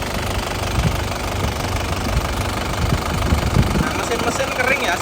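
A 2007 Isuzu Panther LS Turbo diesel engine idles up close with a steady, knocking clatter and rumble, holding an even level throughout while someone speaks briefly.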